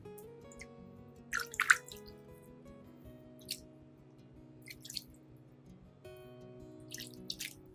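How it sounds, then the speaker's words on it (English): Clean water rinsing over an orchid's roots and base, heard as faint scattered drips and soft splashes in a few short clusters beneath quiet sustained background music. "Next, I'll rinse the entire orchid thoroughly with clean water."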